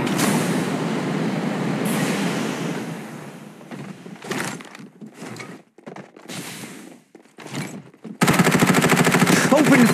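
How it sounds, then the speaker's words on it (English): Gunfire in the battle royale shooter Farlight 84 runs as a loud, rapid automatic burst near the end, after a stretch of dense rumbling action and scattered bursts. "Open fire!"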